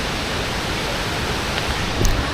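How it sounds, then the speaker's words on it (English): Broad, steady rush of a waterfall beside a Chiang Mai tourist stop with food stalls on the Doi Inthanon route, a constant full-band roar heard from nearby with no talk over it. "All the tour groups stop here because the waterfall is right next to it."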